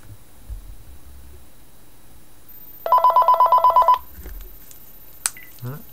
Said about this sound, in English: Calling my phone, home phone too